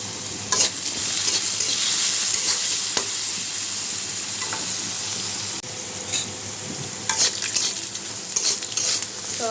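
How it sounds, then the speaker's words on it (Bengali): Potato pieces fry in hot oil in a home kitchen, a steady close sizzle broken by a handful of sharper stirring scrapes and spatters, with no voices. "তো আলুটা ভাজা হয়ে গেছে"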